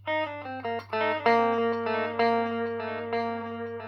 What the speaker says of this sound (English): this is the echo. Okay, so this is just basically your standard delay.